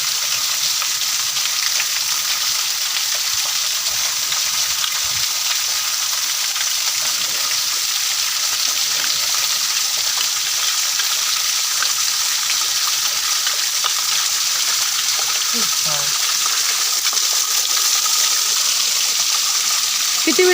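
Masala fries in hot oil in a pan during crab curry cooking, giving a continuous dense sizzle that stays steady and loud throughout, with faint stirring.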